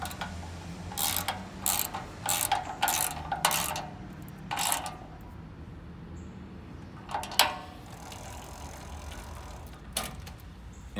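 Ratchet wrench tightening the bolts of a blue bicycle chain guard, clicking in several quick bursts of pawl ticks separated by pauses, with a sharper metallic knock near the end, close and moderately loud.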